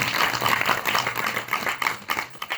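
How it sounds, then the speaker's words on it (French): An audience at the African Film Festival of Charleroi at Quai 10 claps steadily, a dense, fairly loud wash of applause that keeps going and thins slightly toward the end. "Je voudrais d'abord qu'on acclame pour vous parce que c'est pas toujours vu."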